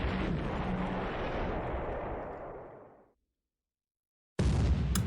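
Naval gunfire rumbles in a South Pacific World War II strategy game, with a long booming blast that decays over about three seconds, a silent gap, then another loud blast starting.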